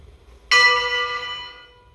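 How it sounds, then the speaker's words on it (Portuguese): A church bell in São João del-Rei, Ouro Preto or Mariana sounds a single loud, close toll that rings out bright and then slowly decays into a long humming tail, used in funeral tolling. "É o dobro de uma pancada."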